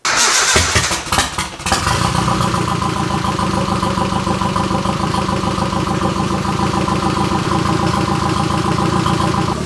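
Turbocharged Nissan S13 engine after a head gasket replacement, cranking briefly with a starter whir, then catching and settling into a loud, steady, close idle.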